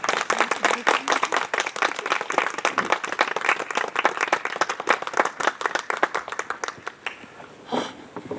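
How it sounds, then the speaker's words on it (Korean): An outdoor solidarity worship gathering in Dongduchean, held to save the old venereal disease clinic, claps vigorously for an incoming speaker: a crowd of hands, some individual claps crisp and close, thinning and dying away in the last second. "나오실 때 힘찬 연대의 박수로 오시면 좋겠습니다."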